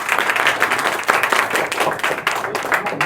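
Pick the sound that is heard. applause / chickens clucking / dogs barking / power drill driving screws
applause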